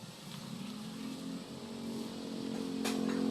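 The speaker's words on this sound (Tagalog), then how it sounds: "Maingay, tabing kalsada po kasi kami" Steady engine drone of passing traffic from a nearby roadside, a broad low hum rising slightly in loudness with a brief brighter swish near the end, no talking.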